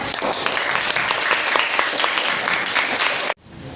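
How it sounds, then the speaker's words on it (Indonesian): Classmates applaud after a group presentation in a classroom: dense, lively clapping from a small crowd fills the room for about three seconds, then stops abruptly. "Ya, tepuk tangan."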